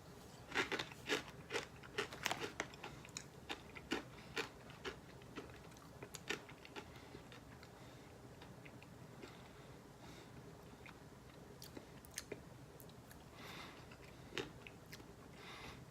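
Crunchy noodle snacks being chewed close to the mic: a flurry of sharp crunches early on thins to sparse, quieter bites over a low background hum.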